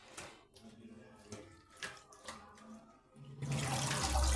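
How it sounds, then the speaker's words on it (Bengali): Jute leaves are washed and squeezed by hand in water for a jute-leaf soup, with intermittent splashing and sloshing pulses close by, ending in a louder rush of water. "আমি এইভাবে হাত দিয়ে চেপে চেপে ভালোভাবে পাট শাকগুলোকে ধুয়ে নেব"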